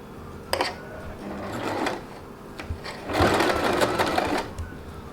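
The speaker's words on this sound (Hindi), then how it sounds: "जहाँ से हमने सिलाई को छोड़ा है उधर से ही फिर सिलाई को शुरू करेंगे" A sewing machine stitches the lining of an Anarkali kurti in short close bursts of rapid whirring, separated by brief pauses, with a longer run near the end.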